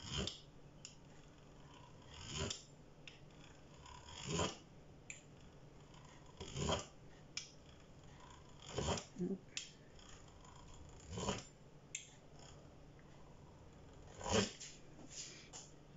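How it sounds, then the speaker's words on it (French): A pizza wheel rolls through savory shortbread dough to cut small strips, giving soft, spaced scraping strokes every couple of seconds against a quiet room, faint and close. "soit avec la roulette pour pizza. Donc on coupe comme ça des petites bandes."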